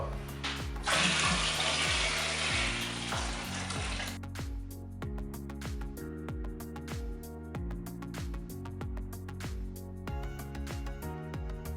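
Water pours into a cider brew kit fermenter for about three seconds, a rushing splash heard under steady background music that continues after the flow stops.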